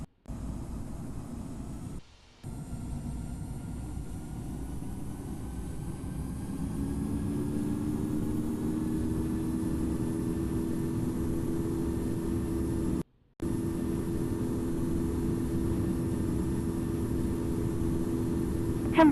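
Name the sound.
airliner engines during takeoff in Infinite Flight video game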